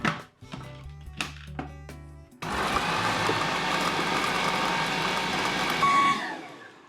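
A blender whirs loudly and steadily, mixing beetroot with chopped garlic and olive oil, starting abruptly after a few seconds of quieter kitchen clatter and running on continuously.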